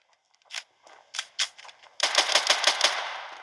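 Rapid bursts of Standoff 2 video game gunfire, a few scattered shots followed by a dense, sustained volley that stays loud to the end.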